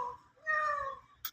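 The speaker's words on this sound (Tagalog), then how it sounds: "Pusa." A tomcat gives a single clear, drawn-out meow in a quiet home, close and fairly loud, followed by a brief sharp noise at the end, with no talk.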